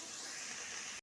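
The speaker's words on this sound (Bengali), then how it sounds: "ভাতটা ফুটছে" Rice boiling in a pot with water for a one-pot winter vegetable rice, giving a steady, close hissing and bubbling wash that runs unbroken before cutting off abruptly at the end.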